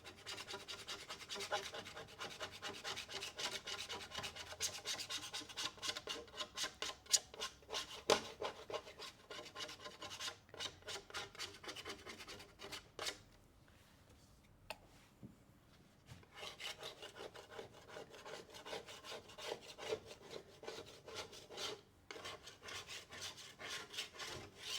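Sandpaper rubbed back and forth over a painted vintage-style background board, close rasping strokes in uneven bursts with a few short pauses.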